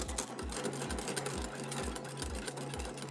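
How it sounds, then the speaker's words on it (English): An electric hand mixer whips dalgona coffee, a fast rhythmic mechanical whirring with regular pulsing beats, steady and close. "You've got the double-handed mixer, and you've got the one-handed mixer"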